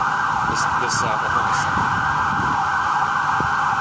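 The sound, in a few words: siren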